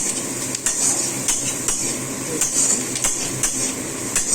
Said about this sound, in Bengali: ভালো করে পেঁয়াজটা ভেজে